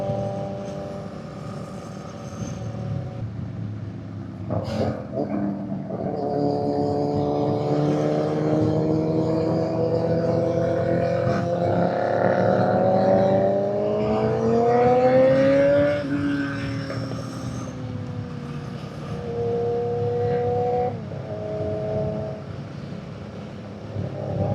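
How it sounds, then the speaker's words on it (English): A group of motorcycles including Yamaha R7s rides together on the road, engines droning steadily with rising and falling revs as the bikes accelerate, heard loud and close under wind. "I'm riding with clearly some powerful bikes around me right now. I got a few R7s in here."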